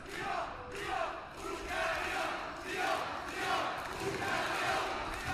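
Spectators at a Hungary versus Brazil mixed-doubles teqball world championship final cheer and shout in an indoor hall, a steady rolling crowd roar with rhythmic surges, somewhat distant.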